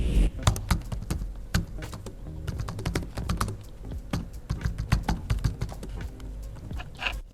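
Rapid, soft clicking of a Lenovo IdeaPad 5i laptop's quiet keys being typed on steadily, close up, with irregular rhythm and no voices.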